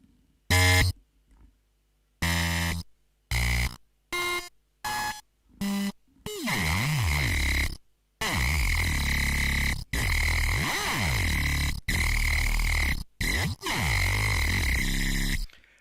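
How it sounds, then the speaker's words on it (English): Cute Beebot synth tones pushed through distortion and other effects, starting as short separate bursts, then turning into long, harsh, warbling blasts with sweeping pitch, loud and up close, with no talking. "Just using Beebot and running it through different effects"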